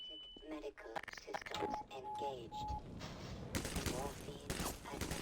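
Gunfire from Half-Life 2: Lost Coast, with sharp repeated shots and bursts crowding the second half, mixed with game sounds and someone talking over the action.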